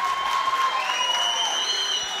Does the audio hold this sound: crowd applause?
yes